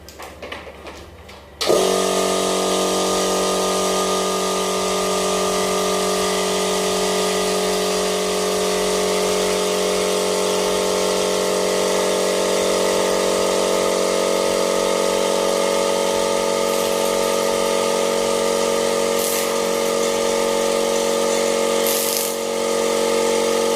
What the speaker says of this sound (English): So as you can see, it's a pneumatic machine.